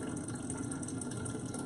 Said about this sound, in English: we're gonna fill up the fish tank with the water